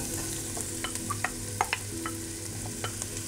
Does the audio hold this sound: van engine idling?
no